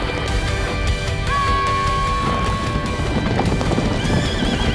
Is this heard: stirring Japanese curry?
no